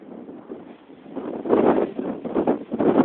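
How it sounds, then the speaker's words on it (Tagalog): Strong wind buffets the microphone in rising, roaring gusts, growing louder and rougher toward the end. "Lakas ng hangin, sobra."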